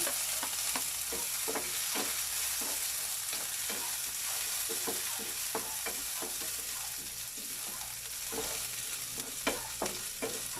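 Chopped onion frying in a pan for sautéed mung bean sprouts with corned beef, a steady loud sizzle broken by a regular series of spatula scrapes and stirs, with no voices.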